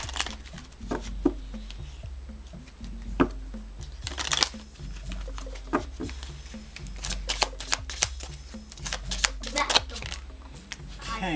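Oracle cards are shuffled and drawn in a run of crisp riffles, flicks and papery snaps, close by, interspersed with soft handling sounds and a quiet voice now and then.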